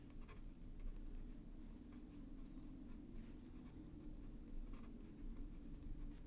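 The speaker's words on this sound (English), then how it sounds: "even though the paper is smooth, I definitely feel it catching on the nib" A Kakimori fountain pen nib scratches across smooth Musubi notebook paper in faint, continuous strokes, close-up but quiet, over a low background hum.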